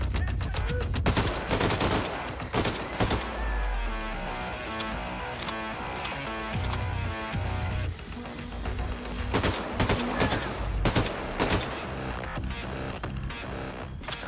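Dense, near-continuous gunfire in the shooter game Wolfenstein 2: The New Colossus, rapid automatic bursts and single shots crowding together over a steady bed of game sound, loud and close.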